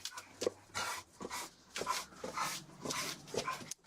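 Dogs barking and yipping in the background at a police department, fairly faint and repeated in short bursts, with some whimpering between barks.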